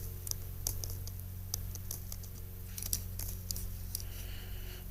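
Typing on a computer keyboard during a web security testing session: a steady run of light, irregular key clicks over a low hum of room noise, with no talk.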